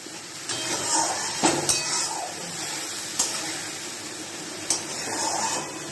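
Boiled banana flower (mocha) being sautéed with salt and green chillies in a pan, giving a steady soft sizzling hiss broken by a few sharp utensil knocks and scrapes.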